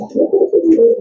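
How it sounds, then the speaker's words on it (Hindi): Paddy pigeons cooing close by, a short run of low, soft throaty coos in quick succession, heard alone. "ये ओरिजिनल चौधरी सखी मोहम्मद भट्टी साहब वाले पैडी कबूतर।"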